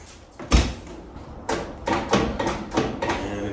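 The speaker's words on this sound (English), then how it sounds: "So now let's try to unlatch it." Hood latch on a 1972 Porsche 911S being worked, a sharp metallic clunk followed by a series of rattling clicks and knocks close by.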